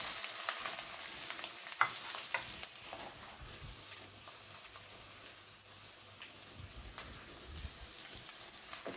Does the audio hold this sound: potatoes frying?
yes